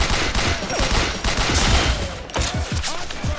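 Dense, rapid gunfire from the game 50 Cent: Blood on the Sand, loud and close. Overlapping bursts and sharp cracks run without a break across the whole span, with no voices over them.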